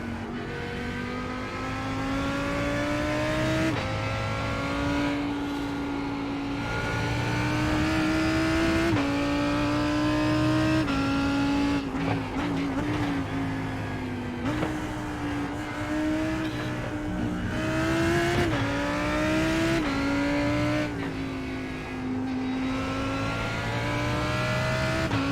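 Race car engines at Spa in a GT sim racing game, a Ferrari and Mercedes among them, drone loudly and continuously, rising and falling through gear shifts and revs with no talk over them.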